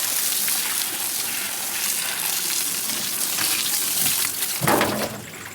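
Tap water gushes steadily onto the area around an outdoor tap as it is washed down, a continuous splashing rush that swells briefly near the end.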